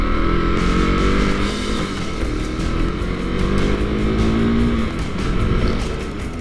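Engine of a liquid-cooled KTM Duke 390 motorcycle while riding, a steady close droning hum with shifting harmonics and continuous wind rush throughout.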